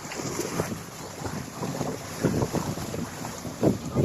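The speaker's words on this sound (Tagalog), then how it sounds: "Grabe ng hangin." Strong wind at a beach buffets the microphone in steady, roaring gusts, with a few louder bursts toward the end and no one speaking.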